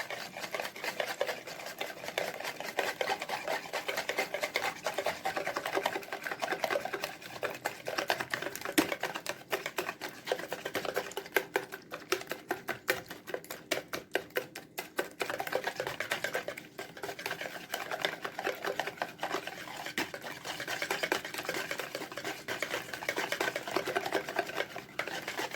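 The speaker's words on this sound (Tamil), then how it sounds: "நல்லா விஸ்க் வச்சு நல்லா மிக்ஸ் பண்ணி எடுத்துக்கலாம்." Rapid, steady scraping and clicking of a hand whisk beating brownie batter with brown sugar in a bowl, a continuous busy patter at moderate loudness with no talking.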